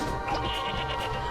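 A short, loud sheep bleat from Katamari Damacy Reroll, heard alone and up close over game music.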